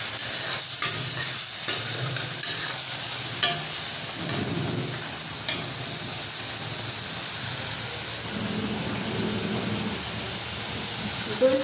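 Shrimp and flat beans frying in a pan: a continuous hissing sizzle with occasional stirring scrapes and clatters, close and steady throughout, with a voice low in the background.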